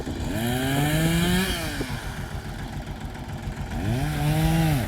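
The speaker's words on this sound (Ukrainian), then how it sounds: "Тракторець сьогодні весь день працює, можна сказати, і не глушиться." A Chinese tractor engine runs steadily while clearing a rural plot for ploughing, a loud continuous drone that rises and falls in pitch as it revs up near the start and again toward the end, with no talk.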